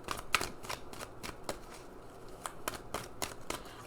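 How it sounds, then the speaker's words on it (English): Oracle cards shuffled and pulled during a pick-a-card reading, a run of quiet, crisp riffling flicks in uneven bursts, close and soft, with no talking. "Let's pull some more cards."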